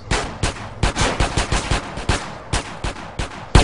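Gunfire in Grand Theft Auto San Andreas, a rapid string of about a dozen close, sharp shots in uneven bursts, ending with one heavier bang.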